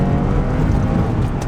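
A Porsche 996 911 with its rear-mounted engine accelerating, giving a constant close, loud engine roar and whir for the whole short stretch, with no voices.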